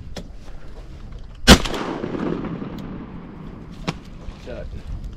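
One sharp, loud shotgun blast rings out at a South Louisiana whistling duck hunt, then echoes and fades over the open marsh. A faint second pop follows later, and quiet outdoor ambience runs throughout.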